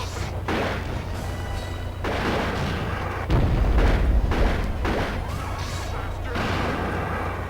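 Gunfire in the PS2 game Predator: Concrete Jungle, heavy booming shots with a low rumble running through most of the stretch, set among game noise and background music.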